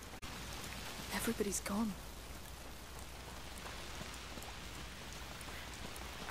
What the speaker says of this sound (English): Foul rain.